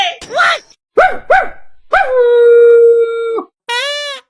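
A voice imitates a dog, first with a few short, sharp yelping barks, then a long drawn-out howl, then a final wavering yowl. The sounds are close and loud, with brief silences between them.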